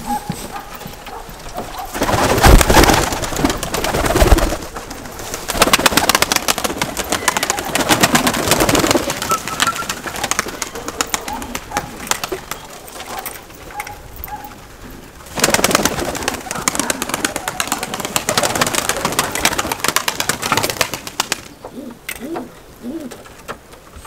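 Pigeons coo and flutter on a snow-covered farm, their calls mixed with bursts of wing flapping and shuffling that come and go loudly and close by, with occasional faint voices.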